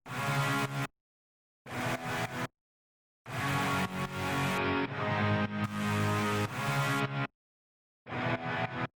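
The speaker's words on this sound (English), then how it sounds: "And I threw on Camel Crusher on the American Crunch setting." Several bursts of heavily distorted electric guitar with a crunchy, saturated American Crunch tone from the Camel Crusher plugin, each chord held briefly and then cut to silence, loud and close.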